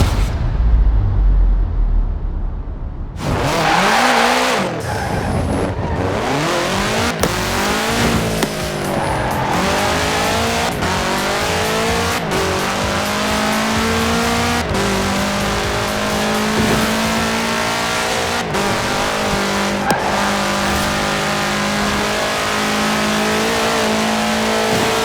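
A 1966 Volkswagen Beetle fitted with a 2.5-liter flat-four turbo engine roars through a Forza Horizon 4 race, revving hard through repeated gear shifts with squealing, skidding tires, loud and continuous throughout with no talk.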